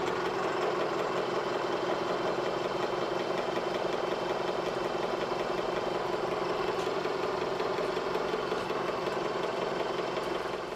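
A milling machine cutting with an end mill held in a Weldon flat holder gives a steady, loud mechanical drone with a constant rhythmic chatter throughout, close up and without talk.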